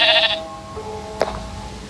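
A Minecraft sheep bleats once, close and clear, a short wavering cry following a higher tonal game sound, with faint background ambience.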